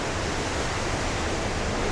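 Steady, dense rushing of a waterfall in Jardín, Colombia fills the scene, a constant broadband roar with no breaks and no voices.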